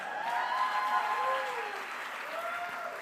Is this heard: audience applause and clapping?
yes